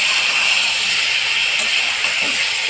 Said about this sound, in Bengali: এই মোরলা মাছগুলোকে এর মধ্যে দিয়ে দিলাম দিয়ে আবারও আমি একটু ভেজে নেব